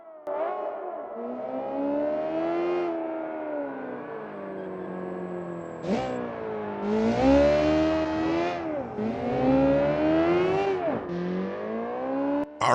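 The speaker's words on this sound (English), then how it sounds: "Here comes the hypercar around the final corner and onto the home straight" A hypercar in the racing game BeamNG screams onto the home straight, its high-revving engine rising and falling through gear changes, loud and close, with shifting pitch sweeps and no talk over it.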